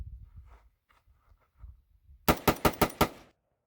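FN SCAR-17 piston gas-operated rifle, brand new, fired rapidly in semi-auto: five loud, evenly spaced shots in quick succession, following a few quiet shuffling sounds.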